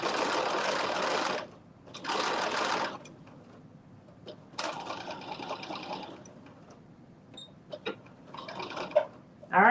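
Stitching the lining of a McCall's 8142 garment, a sewing machine runs in several short bursts of close whirring, separated by quieter pauses with light handling sounds.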